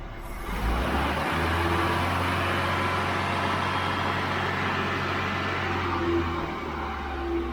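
Ford Cortina Mk3 engine idling close by and revved up, a steady low rumble that rises briefly and holds over several seconds before settling back.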